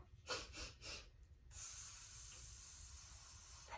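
Three quick sniffing bunny breaths taken by a storyteller leading a children's story time, short soft breathy bursts in a row, followed by a steady airy hiss.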